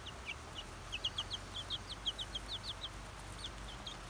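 Small chick with a tiny black beak peeping, a run of high, thin chirps repeating in quick, uneven bursts at close range over a quiet background.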